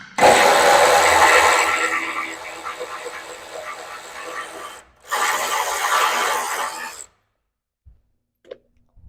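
Ratchet loosening the 14mm hex bolts on the top beam of a 2024 facelift Land Cruiser 70 during a front bar install. Loud, close rasping clicks run for several seconds, pause briefly, resume, then stop, followed by a few faint knocks.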